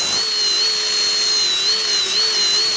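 A steady, loud, whining high-pitched tool noise while wood is carved with a tool handled like a gouge during a chair build, continuous and close without a break and with no voice.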